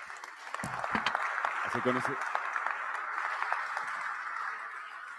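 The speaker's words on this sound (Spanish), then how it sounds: "con ese fuerte aplauso" A conference audience at an international forum on city, commerce and tourism breaks into strong applause, a dense wash of clapping that carries on under a speaker's voice and fades slightly toward the end.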